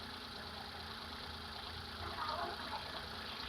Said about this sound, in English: The engine is quieter, as you can see, because we're using brand new oil.